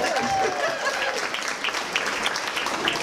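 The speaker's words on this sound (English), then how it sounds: "another round of applause for the next group" A crowd at an arts awards party and fundraiser claps warmly for a group of honorees, a dense, continuous burst of applause with a faint whistle early on.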